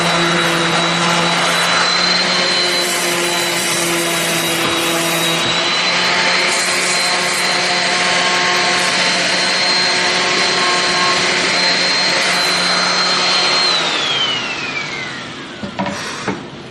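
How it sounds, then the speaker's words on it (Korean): An electric sander runs continuously over a wooden piece, a loud steady whine with a constant high pitch close by, then winding down and stopping near the end, with no talk over it. "이제 기계사포로 네. 전체적으로 다 돌려주시면 돼요."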